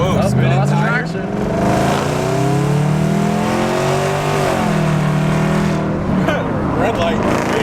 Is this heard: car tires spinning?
yes